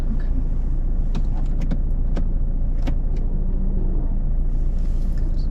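A car's engine idles steadily at the close of a driving test, a low continuous rumble with a few light clicks and rattles from inside the cabin and no talking.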